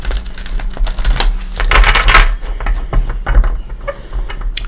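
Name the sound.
shuffling tarot cards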